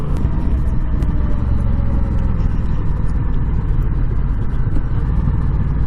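A 2021 Honda Rebel 1100 DCT motorcycle rumbles steadily while riding, a loud low engine drone with wind noise and no clear speech over it.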